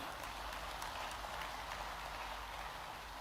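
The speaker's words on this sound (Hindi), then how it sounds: "अरे धन वर्षा हो रही है तो ताली वर्षा भी हो जाए।" Steady applause from a large audience at a global investors summit closing ceremony in a convention centre in Indore, a continuous dense wash of clapping that holds evenly throughout.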